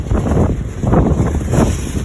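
Strong wind buffets the microphone in loud, rumbling gusts that rise and fall, with no voices.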